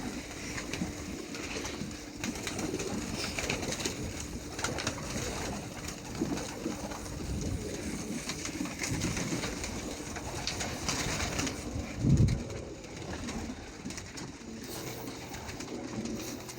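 Meat pigeons coo steadily inside a pigeon loft, a continuous layered murmur of soft throaty calls from many birds, moderately loud with a dense background hum throughout.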